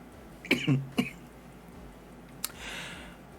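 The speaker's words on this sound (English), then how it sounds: "I hope that the coughing will come under control" Two sharp, close coughs in quick succession, followed by a brief click and a soft breathy exhale.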